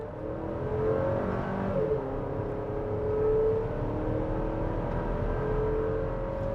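A 2025 Buick Enclave SUV engine revs up steadily, its drone rising in pitch as it accelerates to highway speed, loud and close with continuous road and wind noise.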